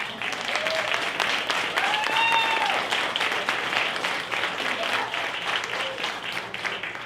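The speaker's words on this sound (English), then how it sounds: "let's give them a round of applause" Steady applause from an audience at a Latina leadership event, a continuous round of clapping with scattered cheers and whoops mixed in throughout.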